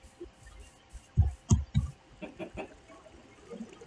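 A few soft, low clucks come in a brief cluster from a video-game chicken on a Minecraft server over a quiet background hum, followed by fainter scattered sounds.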